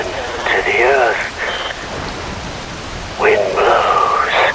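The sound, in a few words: rain falling in Metal Gear Rising video game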